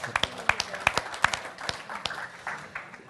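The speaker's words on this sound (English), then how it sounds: "give yourself a round of applause, folks" A small group applauding after a storytelling workshop session: sparse, uneven claps with distinct individual hits, fairly close, tapering off toward the end.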